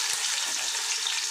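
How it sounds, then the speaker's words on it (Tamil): Quarter kilo of sliced onions sautés in ghee and oil in a pot for mushroom dum biryani, a soft, continuous sizzling hiss, fairly faint and steady with no talk. "வெங்காயத்தை சேர்த்துட்டு நல்லா வதக்கி விட்டுடலாம்."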